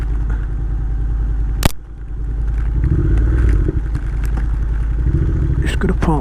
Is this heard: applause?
no